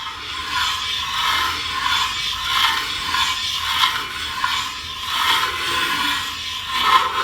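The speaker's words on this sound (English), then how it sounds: "We're now cutting the ridge." A ridge cutter shaves the worn ridge at the top of an engine cylinder bore, giving a steady close metallic scraping with a faint ratcheting rhythm that swells and fades in repeated passes, no voices.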